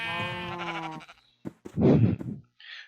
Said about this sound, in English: Hey little sheep.